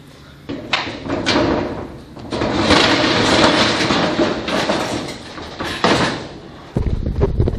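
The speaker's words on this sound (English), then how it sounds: "About to open the door and see what we got." Metal door of a storage unit being opened, a rolling, rattling scrape lasting several seconds with clanks and a heavy thud near the end.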